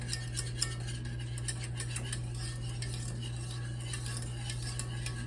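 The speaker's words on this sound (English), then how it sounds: "So I just want to mix in that sugar." A spoon or whisk scrapes and clinks steadily against a pot as sugar is stirred into hot chocolate, with quick repeated strokes heard close up over a low steady hum.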